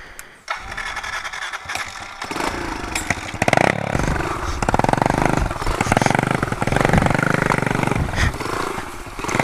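A 2017 Kawasaki KLX110 dirt bike engine runs close by, revving up and down in a buzzy, steady drone with rising and falling pitch as it is put in gear; brief speech is faintly audible at the start.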